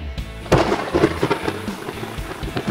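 Thunder rumbles with a sharp crack and rolling booms over steady rain, a loud, close storm with no voices.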